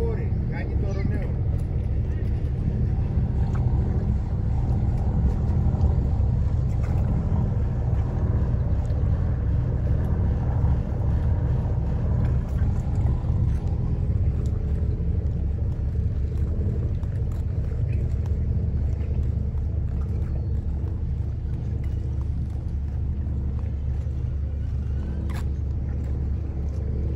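A cruise vessel of Pantelis Daily Cruises, the Oraia Eleni, running near Pefkochori: a steady low engine rumble that drones on without a break, with wind and the sound of water around it and voices talking over the top.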